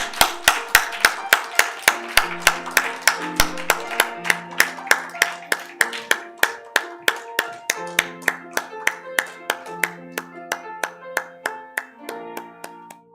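A church congregation at a Christmas service claps together in a steady rhythm, about three claps a second, over sustained musical chords. The unison claps stay sharp and regular, easing slightly in pace toward the end.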